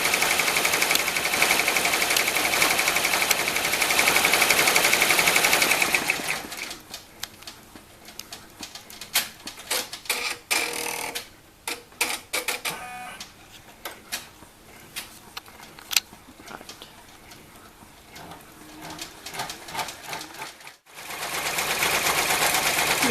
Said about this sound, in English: the machine is finishing up this last satin stitch up at the top